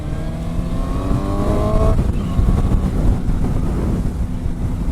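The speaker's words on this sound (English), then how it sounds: "you can feel the engine noise, but it sounds like a, it sounds like a a crotch rocket high-pitched sound." A 2018 Suzuki GSX-S750 motorcycle engine under way, a high-pitched whine rising in pitch beneath heavy wind rush over the microphone, steady and close.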